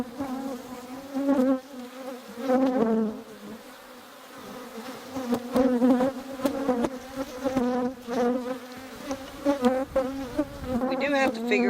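Honeybees buzzing at an open hive with the cover boards off, a close, steady droning hum that swells and fades as individual bees fly near, with no talk.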